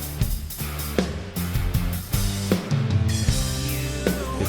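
Gavin Harrison drum fill played on an acoustic drum kit: a rapid run of loud tom and kick hits with cymbal crashes, driving and busy, close and clear with no talking.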